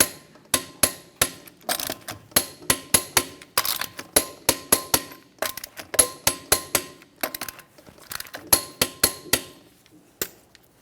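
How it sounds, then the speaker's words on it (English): Lug nuts on a Jeep Grand Cherokee wheel being tightened to spec with a torque wrench in a crisscross pattern, a long series of sharp metallic clicks and knocks coming in quick bursts, loud and close with no talking. "we'll be torquing each of these lug nuts to 115 foot-pounds in a crisscross manner"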